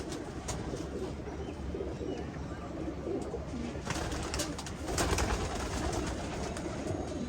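Pigeons coo steadily in a small loft, soft overlapping calls layered over a dense, constant background hum, with a slightly louder burst of cooing and fluttering near the end.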